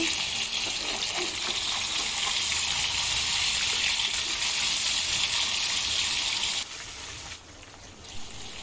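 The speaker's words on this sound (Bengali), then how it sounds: "এখন এগুলো আমি তেলে কিছুক্ষণ কষে নেব" Raw green mango pieces for a sweet-sour pickle stir-fried in oil, a steady close sizzle with faint stirring scrapes, easing off and quieter over the last two seconds.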